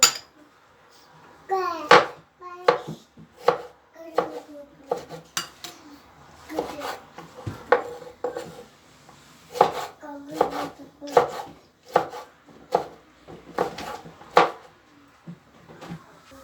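A knife chops vegetables on a cutting board in steady, sharp knocks, about one every half second, close up, with faint kitchen clatter behind.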